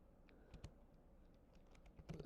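Keys tapped on a computer keyboard while writing a short email, with sparse, irregular light clicks close by that cluster into a quicker burst at the end.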